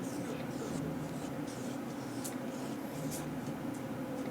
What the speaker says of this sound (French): Kate peut utiliser son crayon pour faire apparaître des messages écrits sur le papier déchiré.